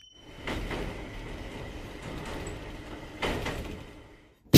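A commuter train at a Japanese station platform, with rumbling carriages, rail noise and a steady tone, then a sliding door thudding shut near the end.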